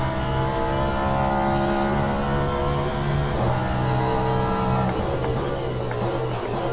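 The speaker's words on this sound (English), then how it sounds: "this is hypercars on Le Mans Ultimate" Hypercar engines in Le Mans Ultimate, droning loudly and steadily with layered harmonic whines that shift pitch as the cars accelerate and shift gears, several cars close together under a continuous roar.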